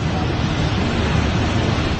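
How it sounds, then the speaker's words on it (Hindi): The flooded Alaknanda river rushes past in a swollen, fast torrent near a bridge, producing a loud, continuous roar of turbulent water with wind buffeting the microphone and no voices heard. "अलकनंदा नदी के इस वेग को देखकर अंदाजा लगाया जा सकता है"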